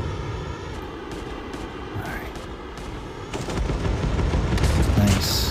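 Call of Duty gunfire during Jackal aircraft play, rapid bursts of shots over a constant engine roar, growing denser and louder in the second half, with a few distant pops and booms.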